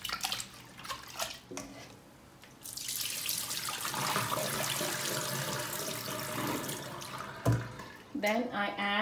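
Shrimp rinsed under cold running water from a kitchen tap, a steady close splashing stream lasting several seconds between brief clinks and drips, with a voice speaking near the end.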